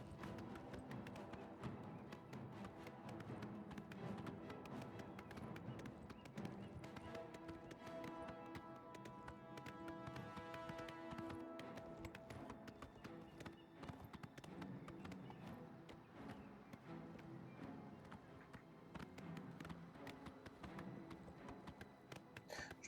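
Horse hooves clip-clopping in steady rhythm during riding in the video game Oblivion Remastered, quiet and continuous for over twenty seconds, with faint game ambience and occasional low talk underneath.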